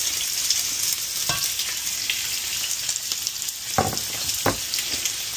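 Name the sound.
onions sautéing in a pan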